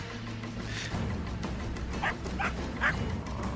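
A dog gives three quick, yappy barks in a row, fairly faint and a little distant, over low background noise.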